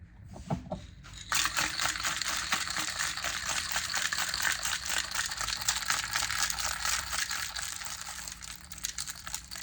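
Espresso martini with ice is shaken hard in a cocktail shaker, a rapid, steady rattling clatter that starts after a couple of quiet knocks and continues loudly for most of the clip, easing slightly toward the end.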